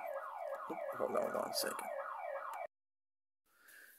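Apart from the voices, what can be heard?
neighbor's alarm sounding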